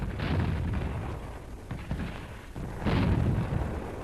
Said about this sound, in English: And so, a howitzer lets one go.